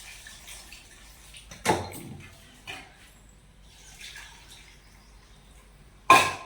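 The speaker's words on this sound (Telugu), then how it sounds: "దీంట్లో మనం చింతపండు పులుసు పోసుకుందాం" Tamarind juice poured into a pot of drumstick and toor dal sambar, with a few separate splashing pours and drips, each brief and close and set apart by quiet gaps.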